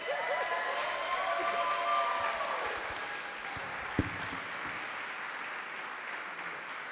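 Wedding guests applaud after a toast at a farm reception, a steady wash of clapping through the whole stretch with a brief sharp knock near the middle and faint voices mixed in.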